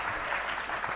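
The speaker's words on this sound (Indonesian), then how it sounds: "boleh kalau mau tepuk tangan" A second of dense, steady audience applause at a speech by Indonesia's education minister, filling the room without a break and with no speech over it.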